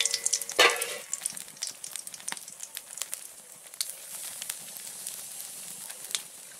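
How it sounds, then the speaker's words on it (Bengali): Cumin seeds, dried chili and bay leaf hit hot oil for a dal tempering with a sharp initial crackle, then keep up a steady close sizzle with scattered pops. "তেল দিলাম, জিরে, শুকনো লঙ্কা, তেজপাতা, ডালটা ছুকবো।"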